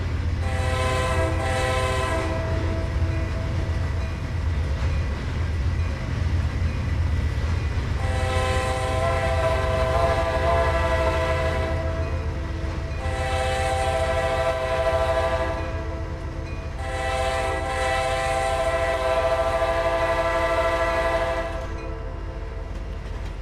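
A train driven in the Trainz simulator rumbles along steadily, with a loud horn sounding in repeated long blasts over the continuous low engine drone and rail noise.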